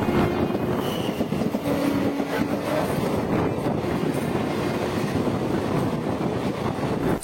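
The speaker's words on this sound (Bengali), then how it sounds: "train number 12659 Gurudev superfast express" Gurudev Superfast Express 12659 rolls steadily on rails through Flower Valley Khirai, a loud continuous rumble and clatter with wind buffeting, heard from on board, without voices.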